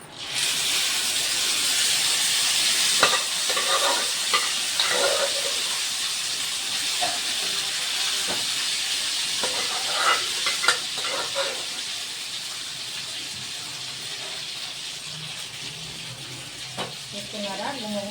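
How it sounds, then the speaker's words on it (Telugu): Hissy sizzle of dried red chilies frying in oil for a dal tempering, loud at first then easing off, with occasional scraping and clinks from a spoon in the pan. "ఎండుమిర్చి చాలా ఫాస్ట్గా ఫ్రై అయిపోతుంది"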